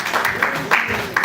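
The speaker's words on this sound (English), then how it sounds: "A round of applause for him one more time" Audience applause at a live education event, a brief burst of steady clapping from a crowd with a voice speaking over it.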